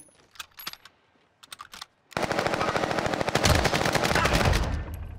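Rapid automatic gunfire from a first-person shooter game with a Cooper carbine and Kar98, starting abruptly after a few sparse quiet clicks and then rattling on loudly and continuously in dense bursts.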